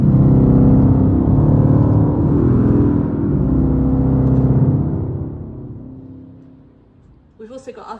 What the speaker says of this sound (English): So we've got our 16-foot and 32-foot reeds, which sound a bit like this.